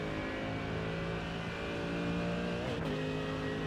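McLaren race car in a racing video game howls at high revs, a steady loud engine drone whose pitch dips abruptly as it shifts or passes by close.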